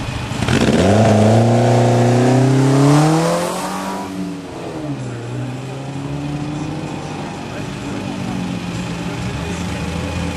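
A Caterham car with a 2-litre Ford Pinto engine revs up loudly with a rising, harmonic roar, then settles back into a steady idle rumble for the rest of the clip.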